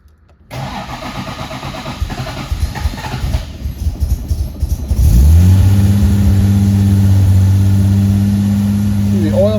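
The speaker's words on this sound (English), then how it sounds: "Let's start this car." A 1964 Jaguar E-Type engine cranks over with a rapid churning starter, then catches and settles into a loud, steady idle close by, with the choke on and the car in neutral.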